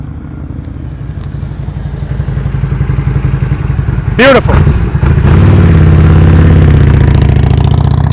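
A motorcycle engine runs at slow riding speed, starting quieter and building to a steady loud drone, with a brief voice speaking over it midway.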